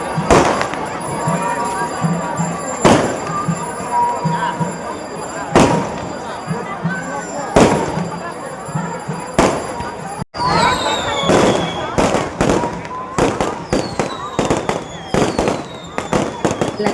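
Fireworks boom and crackle at a Kanniamman temple festival in Guduvancheri, a long series of loud, sharp bursts, some spaced apart and others in quick rapid clusters, with whistling rockets rising and a crowd murmuring beneath.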